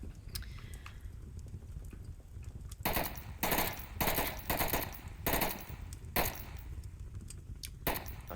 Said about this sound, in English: More firing coming out from Architect